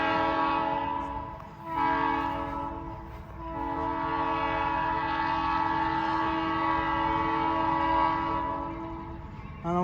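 A Hamilton Northwestern Railroad locomotive sounds its chime horn in long sustained blasts with brief breaks, loud and fairly close, alone without talk.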